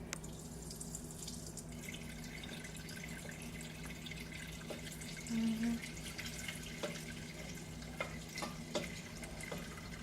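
Red boxed wine for mulled wine pours from the bag into a pot as a faint, steady trickle and splash that runs throughout, with a few brief clinks near the end.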